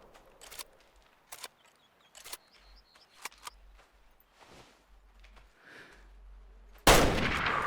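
Single rifle shot aimed at a bear in Way of the Hunter, in a quiet reserve forest: scattered sharp clicks and soft rustles, then one loud blast near the end.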